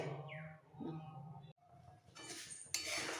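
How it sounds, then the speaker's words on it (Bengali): A spoon stirs grated carrots in milk in a pot for carrot halwa, giving repeated light clinks and scrapes against the metal with a muffled voice briefly in the background. "এইভাবে একটু নাড়াচাড়া দিয়ে দুধের সাথে গাজরটা সেদ্ধ হতে দিতে হবে"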